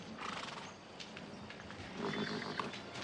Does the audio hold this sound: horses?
yes